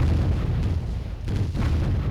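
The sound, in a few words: command center being destroyed in Warzone 2100 video game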